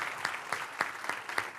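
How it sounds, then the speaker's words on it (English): Faint, brief clapping at an opening general session of a conference, heard as a few evenly spaced, rhythmic claps against a quiet background. "Let's give another round of applause and a very special thank you to Jennifer."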